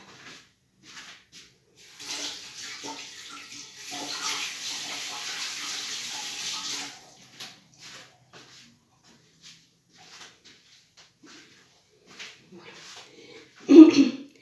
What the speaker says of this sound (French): Je vais me laver les mains et je reviens tout de suite.